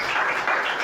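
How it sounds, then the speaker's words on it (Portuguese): A church congregation claps together during a worship service, steady dense applause close by filling the short moment. "Só os que creem, pode aplaudir."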